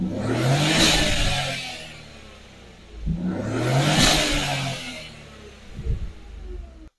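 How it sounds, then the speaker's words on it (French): The TCe petrol engine of a Renault Clio runs and revs in repeated swells, rising and falling about every three seconds, close by with a faint mechanical clatter underneath. "Je vais mettre le véhicule en route et on va voir un petit peu."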